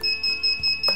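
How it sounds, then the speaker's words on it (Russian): A racing quadcopter drone's beeper sounds a quick series of about five sharp, close electronic beeps in a steady rhythm. "Вот мы щелкаем, можем активировать бипер наш."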